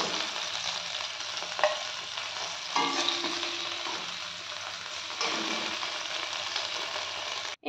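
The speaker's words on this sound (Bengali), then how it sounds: "ভেন্ডিগুলো আমার উল্টে পাল্টে ভেজে নিয়েছি" Okra fries in hot oil in a home kitchen pan, a soft continuous sizzle broken by a few scraping knocks as the pieces are stirred and turned over.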